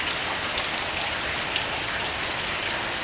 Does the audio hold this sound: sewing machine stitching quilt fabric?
no